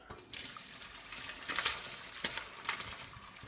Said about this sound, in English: we are just going to tip this into the colander and let the juice flow into the other saucepan